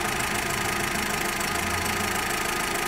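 A Volkswagen Suran 1.6 engine idles with low oil pressure, giving a steady, continuous mid-range hum with a faint low knocking undertone, heard close and alone throughout.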